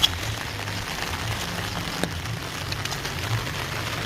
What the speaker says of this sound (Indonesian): Hujan gerimis.